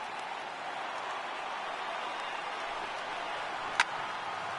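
Stadium crowd of over 39,000 on its feet at a Yankees versus Blue Jays baseball game in MLB The Show 18, a steady, distant roar with one brief sharp click near the end.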